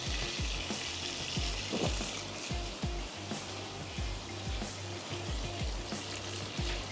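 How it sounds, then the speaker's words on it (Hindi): Eggs frying in a pan give a steady, fairly loud sizzle, with a string of low, regular thumping pulses running beneath it throughout. "अंडों को फ्राई कर लेते हैं।"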